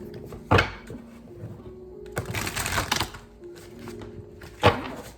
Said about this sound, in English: So I'm going to do 6 shuffles.